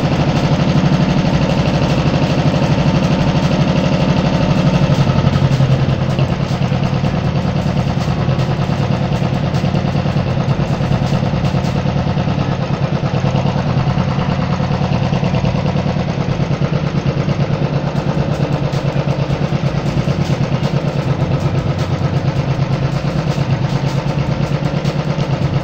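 Royal Enfield EFI motorcycle engine idling steadily and loudly up close, a continuous even throb with no break while the idle is being adjusted.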